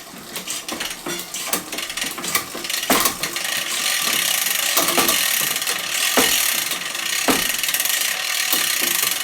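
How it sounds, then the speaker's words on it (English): A WheelTop EDS OX wireless mountain bike derailleur shifts through the gears, giving repeated sharp mechanical clicks and ratcheting freewheel buzz, loud and close with no voices. "So the gears actually seem to work completely perfectly off the bat."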